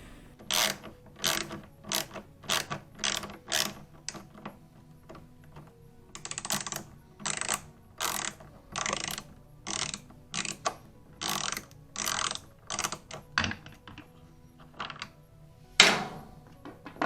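A ratchet loosening a bolt on the pump of a Maytag MVW7232HW0 top-load washer, bursts of rapid close clicking repeated many times with short pauses between strokes.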